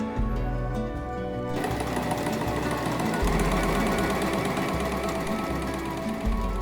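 A sewing machine stitches a skirt in a steady, loud, rapid mechanical chatter that runs without a break, with no voices.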